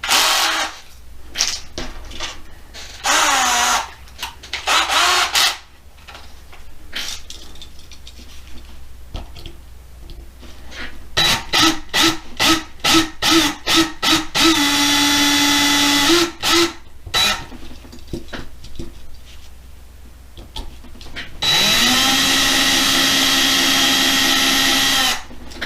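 A power drill bores out the rivets of a Hot Wheels die-cast toy car, with several bursts of high whining drilling of different lengths, some short repeated pulses and a longer sustained run near the end, close and loud.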